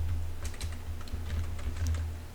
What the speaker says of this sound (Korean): 키보드에 컨트롤 눌러봅니다